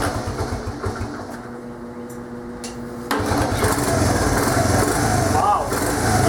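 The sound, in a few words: Honda TRX70 ATV engine starting and idling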